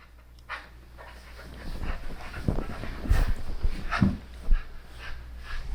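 A dog pants and snuffles close by, with soft irregular breaths and a few louder bursts while playing with a toy indoors.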